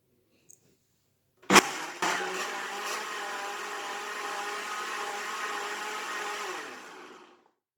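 A blender purees mango chunks for mango lassi: a short clunk, then a loud, steady motor whir that holds for about six seconds before winding down to silence.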